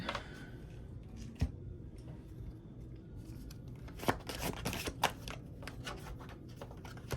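A large deck of cards being handled and shuffled close up, with soft riffles and flicks, a couple of sharp taps, and a denser flurry of shuffling near the end, quiet and with no voices.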